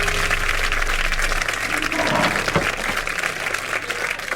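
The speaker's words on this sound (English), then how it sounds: "How about one more round of applause for our guest?" An audience applauds a guest at the close of a live podcast show, a steady wash of clapping that runs throughout at full strength.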